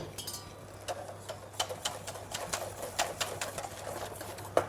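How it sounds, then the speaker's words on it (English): Hot cream is whisked into an egg mixture in a bowl, giving a rapid, fairly even clatter of the whisk against the sides that carries on close and moderately loud throughout. "I'm going to pour it over my egg mixture, and I'm going to whisk."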